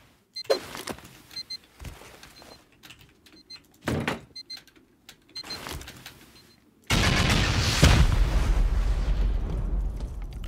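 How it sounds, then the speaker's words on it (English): C4 charges and rockets blasting at a wall in an online raiding game: several sharp separate booms with pauses between, then a long loud roaring burst of explosions that slowly fades. "We'll send the 2C4 off and then 7 rockets."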